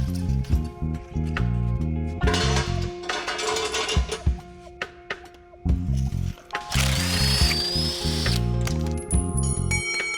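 A jack is worked to lower an axle out of a Chevy K5 Blazer, with steady rhythmic ratcheting and clanking mechanical strokes close by, mixed with metallic shop clatter and a brief higher whine near the end.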